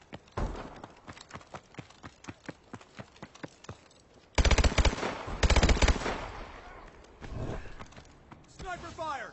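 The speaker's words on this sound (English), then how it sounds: "Sniper fire! Take cover!" Sniper gunfire in Call of Duty Advanced Warfare: a regular run of quick shots, then two loud, harsh blasts close together, followed by fainter crackling and a short electronic chirp at the end.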